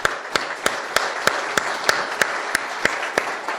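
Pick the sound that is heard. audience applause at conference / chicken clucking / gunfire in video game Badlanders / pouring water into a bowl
audience applause at conference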